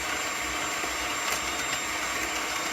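Aquafaba, the liquid from tinned chickpeas, being whisked for chocolate mousse, a steady continuous whirring drone with no pauses and no voices.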